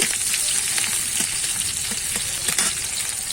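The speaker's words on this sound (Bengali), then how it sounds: "এখানে একটা মিডিয়াম সাইজের প্যাচ আমি কুচিয়ে রেখেছিলাম সেটা দিয়ে দেবো দিয়ে আমি ভালো করে কিন্তু এটা ভেজে নেব" Chopped onion frying in hot oil in a pan for a Bengali koi fish curry, a steady close sizzle with soft stirring scrapes and no talking.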